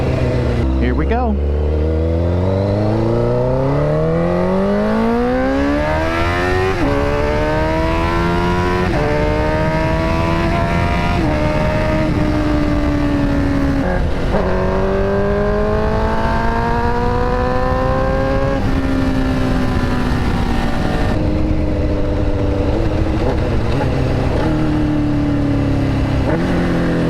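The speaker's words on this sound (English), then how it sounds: "I especially love the downshifting on this. With this exhaust, it just sounds so crisp and clean." A motorcycle with an aftermarket exhaust revs repeatedly, climbing through gears and dropping back on crisp downshifts, loud and close for a long stretch.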